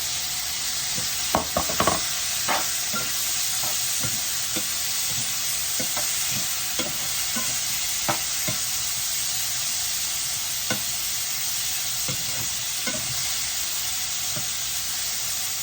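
Fenugreek seeds, onion, mustard seeds and fennel sauté in a hot pan, giving a steady close hiss broken by scattered scraping stirs and clicks of a spoon, with no voices.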